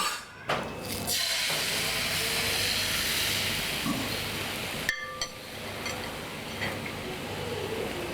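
Crepe batter poured into a hot pan, a steady sizzling hiss that stays loud and continuous, with a couple of faint clinks of utensils.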